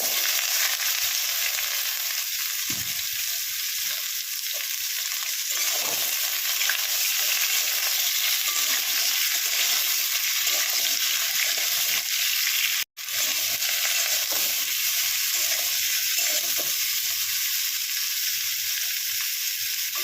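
Mixed vegetables for a papaya and mung dal dish fry in a pan with a loud, constant close sizzle, broken by faint stirring scrapes and one brief cut-out midway.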